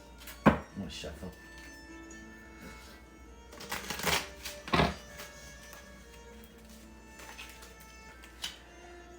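Tarot and oracle cards being shuffled by hand at close range, a few crisp riffling bursts with quiet pauses between them.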